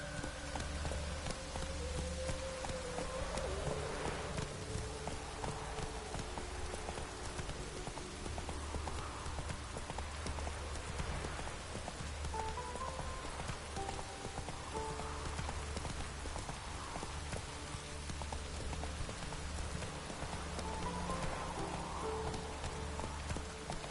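Geralt's horse Roach trots through rain in The Witcher 3, a steady close clip-clop of hooves over a constant hiss of falling rain, with faint distant voices and game music behind.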